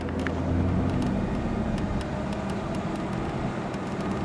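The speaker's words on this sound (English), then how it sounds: "let's go ahead and take it on a test drive and see how well it works" A 1993 Ford Ranger with new brake rotors on a test drive gives off a steady, loud rumble of engine and road noise that holds even throughout, with no voices.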